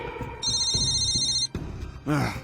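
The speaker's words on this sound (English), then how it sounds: "That was a ringtone." A phone ringtone plays, a steady electronic tone lasting about a second, alone, after some thumping sounds and before a brief voice.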